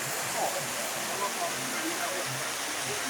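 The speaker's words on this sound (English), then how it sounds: "There's a water fountain in it." Water fountain in a river below a bridge in Italy, heard from above as a steady broadband rushing splash that continues unbroken throughout.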